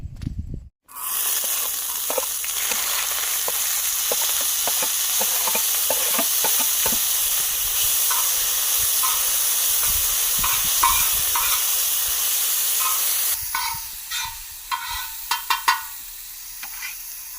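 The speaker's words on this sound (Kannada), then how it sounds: "ಇವಾಗ ಈರುಳ್ಳಿ, ಟೊಮೊಟೊ ಮತ್ತೆ ಹಸಿಮೆಣಸಿನ್ಕಾಯಿ ಹಾಕ್ತಾ ಇದ್ದೀನಿ" Chopped onion, tomato and green chilli hit hot oil on a tawa, bursting into a loud, dense sizzle that holds steady, then thins into crackling pops near the end.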